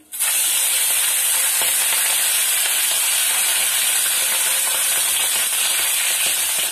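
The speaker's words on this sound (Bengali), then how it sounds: "মাছটা ভেজে নিচ্ছি।" Bata fish frying in well-heated oil, a loud, steady sizzle that fills the whole stretch with dense hissing crackle and no pauses.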